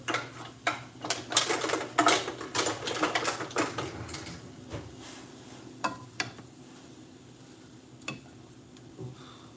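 Ramen noodles being stirred in a pot, with irregular clinks and scrapes of a utensil against the pot, busy at first and then thinning out over a low cooking hiss.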